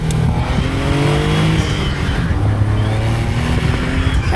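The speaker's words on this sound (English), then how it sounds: "Can you hear those turbo whistles though?" Heard from inside a Caterham 170S sports car on the road, the engine drones loud and near as it revs through gear changes, with faint whistling tones sweeping over it.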